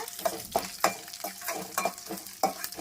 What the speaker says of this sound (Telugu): శనగపప్పు ఉద్దిపప్పు వేసేసుకొని ఫస్ట్ వేపుకుందాము